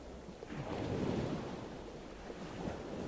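Ocean waves and surf rolling in a soft continuous wash, gently swelling and easing, distant and quiet with a windy hiss over the whole stretch.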